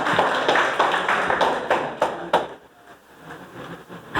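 A group claps together for a correct answer during a Rajasthan geography quiz, with steady, fairly loud rhythmic claps that taper off and stop partway through.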